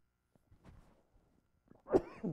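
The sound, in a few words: cough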